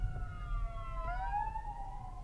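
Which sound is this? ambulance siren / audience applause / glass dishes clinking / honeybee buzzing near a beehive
ambulance siren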